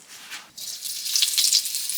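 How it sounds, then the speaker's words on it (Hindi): Cumin seeds dropped into hot oil for a tadka, cooking an old-style village halwa of atta and desi jaggery; a sudden bright sizzle bursts in after half a second and stays loud and steady to the end. "तड़का डाल देते हैं।"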